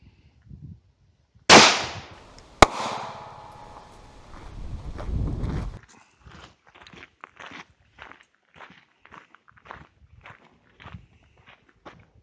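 A 9x19mm Walther P1 pistol fires at a Kevlar PASGT helmet: one sharp close crack and then a second sharp report, followed by rustling and scattered footsteps and handling noises.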